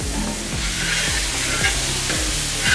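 Tomatoes go into sizzling masala in a pan for country chicken curry, giving a steady frying crackle with repeated stirring scrapes at a close, even level.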